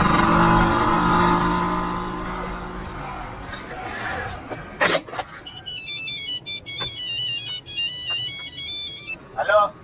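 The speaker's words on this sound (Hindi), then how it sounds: "तेरे किसी दोस्त का फोन आ गया" A mobile phone ringtone plays an incoming-call melody of repeating tonal notes for several seconds, following a stretch of traffic-like rumble and brief clatter.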